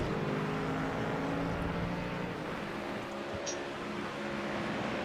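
Race car engines, including a powerful Mercedes, roar steadily in a sim racing game at Motorland Aragon, a dense continuous drone with no break across the span.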